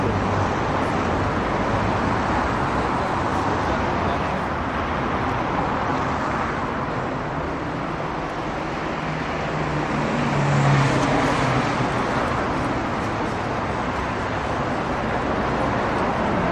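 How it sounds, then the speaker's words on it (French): Steady roar of bus and car traffic on a Paris street, a continuous dense rumble that swells slightly as a vehicle passes near the end. "Là, il y a le bus."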